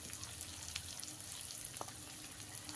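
Potatoes frying in a pan with spices, a faint, steady sizzle with light crackles and a few soft stirring clicks.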